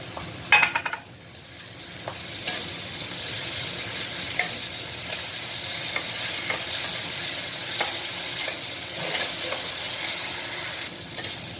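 Ginger-garlic paste fries in oil with onions in a pan for chicken keema, a soft continuous sizzle with occasional spatula scrapes and taps, moderately quiet, no talking.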